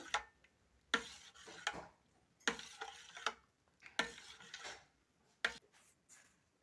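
A spoon scrapes and taps around a bowl of lentil fritter batter with green chilli paste, in repeated irregular strokes, close and fairly quiet, with no voices.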